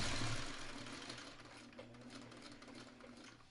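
Sewing machine stitching a seam on a spool quilt block, a soft steady mechanical whir that starts a bit louder and fades slightly, heard alone and fairly quiet.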